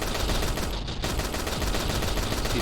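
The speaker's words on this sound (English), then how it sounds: "So you see that explosion." Dense, continuous blasts from a video game explosion effect, loud and crackling with rapid bursts like gunfire, filling the whole stretch with no voices.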